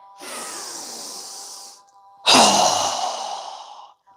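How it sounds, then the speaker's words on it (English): Two forceful breaths pushed out during a yoga breathing exercise, each a loud, rushing hiss close to the microphone; the first lasts about a second and a half, and the second, after a short gap, starts harder and then fades. "inhale. Strong exhale. Again."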